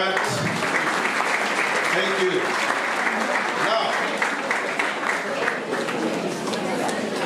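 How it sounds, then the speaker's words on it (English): A school audience at an academic awards ceremony gives loud, continuous applause mixed with crowd chatter, and a voice briefly speaks over the clapping. "A round of applause for that."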